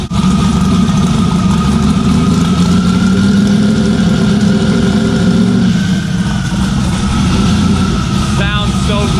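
An E90-fuelled car engine idles steadily inside a shop, a loud continuous rumble with a low throb and no breaks, while people talk over it.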